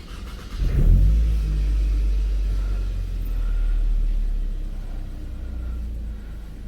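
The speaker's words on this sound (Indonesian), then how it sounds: "Sekarang kita akan coba dengerin bagaimana suara knalpotnya. Oke, sekarang kita starter mobilnya ya." Toyota Camry 2.4 V with a custom stainless exhaust cranks and starts, settling into a steady low, rumbling idle close by, with no talking.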